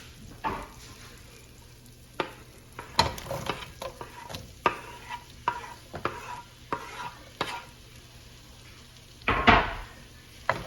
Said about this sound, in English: We're gonna saute our onions till they get translucent and start to soften up